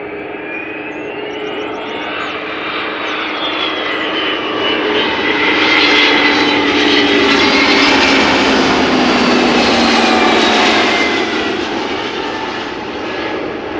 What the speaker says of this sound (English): So A300 arriving from Madrid.